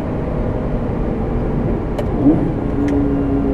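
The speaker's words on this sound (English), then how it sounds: "now we're gonna do some decelerations. Let's find out, see how that sounds." A Lamborghini Gallardo engine with E-gear transmission hums steadily up close while decelerating, with a brief rev and a few faint clicks as the engine note settles lower.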